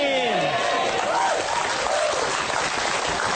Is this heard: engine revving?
no